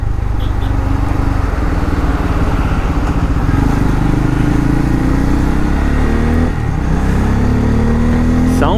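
Bajaj Pulsar N250 motorcycle engine running steadily while riding, a loud continuous low drone with rising pitch toward the end as the bike accelerates, wind noise mixed in.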